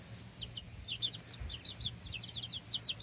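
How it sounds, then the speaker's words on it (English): Faint, high-pitched peeping from small baby chicks eating watermelon, repeated in quick irregular chirps over a low rumbling background. "Got a little rooster there."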